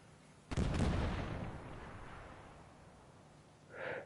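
In the Easy Red 2 war game, a tank is struck by fire: one sudden loud blast with a rumbling boom that slowly fades, then a short fainter burst near the end.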